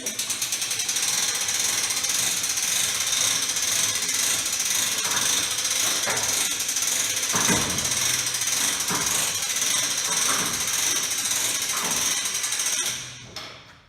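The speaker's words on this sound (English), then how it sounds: "It's got a crank handle." An old sign trailer's crank handle ratchets continuously, giving a dense, loud mechanical clatter that runs steadily for about thirteen seconds before fading out at the end.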